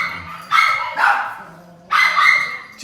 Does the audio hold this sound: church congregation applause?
no